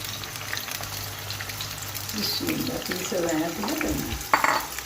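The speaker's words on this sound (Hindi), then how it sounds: "यहाँ पे हमने इनको डाल दिया है गरम ऑयल के अंदर। इनको अब हमने डीप फ्राई करना है" Hot oil bubbles and sizzles steadily as karela gosht ingredients deep fry, with a voice speaking over it partway through and a brief clatter near the end.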